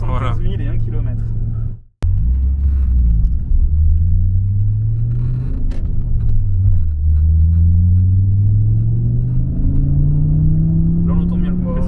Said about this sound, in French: Là on entend bien le compresseur